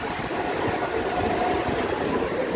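A steady low rumble and rushing hiss of a moving train, heard from inside a carriage near Gopalnagar station, Bongaon, continuous and even without voices.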